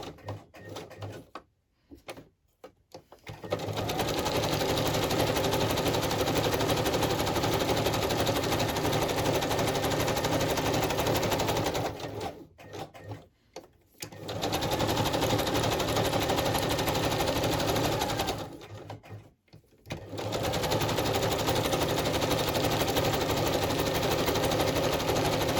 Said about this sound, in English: Now I need to zigzag down here